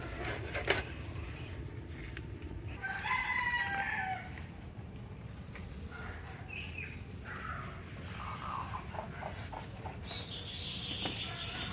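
A rooster crows clearly at close range over a rough, noisy background, followed by fainter clucks and scattered rustling.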